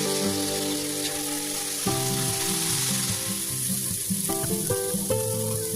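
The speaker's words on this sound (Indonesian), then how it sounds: "tumis bahan bumbu yang sudah dihaluskan. Masukkan daun salam, serai, dan lengkuas." A ground spice paste sautéing in a pan with bay leaf, lemongrass and galangal gives off a steady loud sizzle with occasional stirring scrapes, mixed with background music and no talking.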